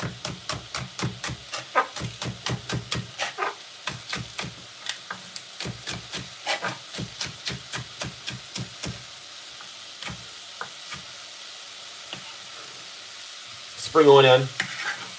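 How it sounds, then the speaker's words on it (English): Fresh rosemary and thyme are stirred in a cooking pot for a Jamaican brown stew salmon. A spoon scrapes in quick, steady, rhythmic strokes that slow and thin out, and a voice speaks briefly near the end. "Give this a stir."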